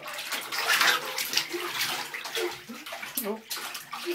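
A child splashes and swims in a bathtub, with close, irregular sloshing and bursts of water noise, and faint voices in the background.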